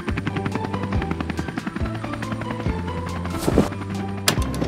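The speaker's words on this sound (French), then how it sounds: "Regarde, dans le ciel, il y a un hélicoptère avec un gros chargement." A helicopter's rotor thumps in a steady rapid rhythm, loud and close, with a couple of bangs near the end.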